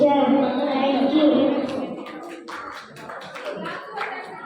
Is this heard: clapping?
yes